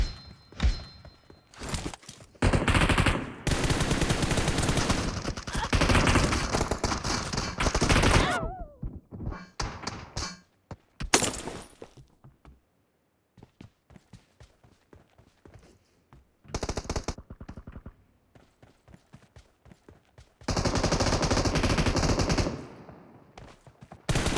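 PUBG Mobile team deathmatch gunfire: loud bursts of automatic fire in long sustained strings alternating with quieter gaps of single shots, thumps and footsteps, no talking.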